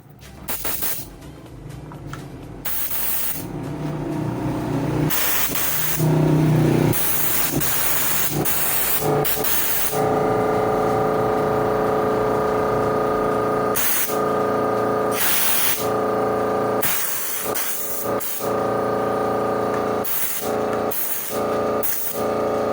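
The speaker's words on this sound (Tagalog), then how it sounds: "press air lang kailangan mga idol para matanggal" Compressed air sprays in long loud hissing blasts to loosen and remove a motorcycle handlebar grip, with repeated short bursts and brief pauses between them, close up.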